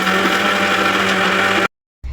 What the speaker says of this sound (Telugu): ముందు వాటర్ వేసుకోకుండా కొబ్బరి నలిగేటట్టు చక్కగా మిక్సీ పట్టేసుకుందాం.